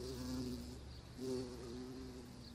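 Bumblebees buzz inside a greenhouse where beans and tomatoes are pollinated, a steady low hum that swells in two passes as the insects fly near, with no voices.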